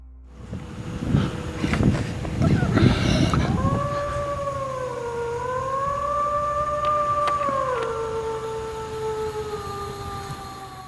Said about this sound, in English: The howling echoes through the dense fog, long, drawn out, and not quite animal, and definitely not human